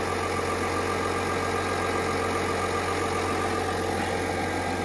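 A 2021 GMC Sierra Elevation 1500 pickup idles steadily on its own, a low, even diesel-like rumble with a constant hum and no voices over it.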